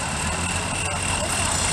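Small antique tractor engine roaring steadily at an old-time farm day tractor pull, a continuous loud drone with an announcer talking over it.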